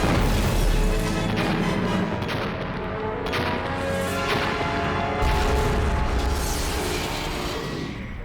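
Cartoon fire explosions roar in a dense, loud continuous rumble with several heavy booming blasts and crackling bursts layered throughout, with no pause between them.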